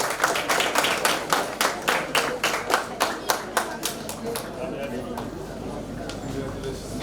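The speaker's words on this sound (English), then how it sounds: "Can we please give her a huge round of applause?" Rhythmic clapping from an audience at a school award ceremony, loud evenly spaced claps in unison that gradually lose their beat and fade into scattered claps and murmuring voices.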